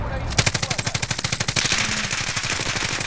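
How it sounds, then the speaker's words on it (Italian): Rapid automatic gunfire in Call of Duty: Modern Warfare, a loud, near stream of evenly spaced shots lasting about three seconds, with another burst layered in and brief voices under the shooting. "Chi è che spara?"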